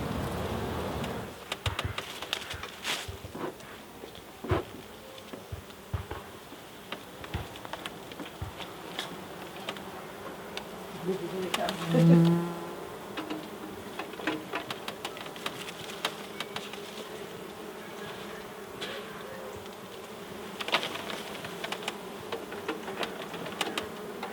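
Honey bees swarming over a hive in an apple tree as a beekeeper searches through them, a close, steady buzzing drone with scattered knocks and rustles of handling throughout.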